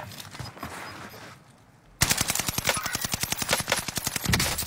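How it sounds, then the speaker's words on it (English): Rapid automatic gunfire in the video game Call of Duty, a fast, loud burst of shots that cuts in sharply after a quieter stretch and keeps hammering to the end. "Hey, come on, shoot me! You're wasting a lot of bullets here"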